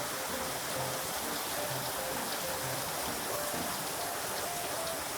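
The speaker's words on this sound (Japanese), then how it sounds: "大雨すぎてそれどころじゃなかったですね。" Heavy rain pours down steadily, a dense continuous hiss of drops drumming on surfaces with no voices.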